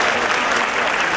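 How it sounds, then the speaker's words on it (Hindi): An audience at a devotional kirtan in Taraori claps together, a dense, loud burst of applause filling the short moment with no break. "एक बार ताली बजा दें।"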